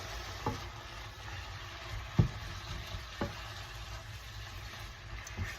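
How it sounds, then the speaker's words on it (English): Ground beef and onions frying in a pan for garlic honey BBQ beef tacos give off a steady, moderate sizzle, broken by a few soft clicks and scrapes of stirring. "Got the onions cooking in there"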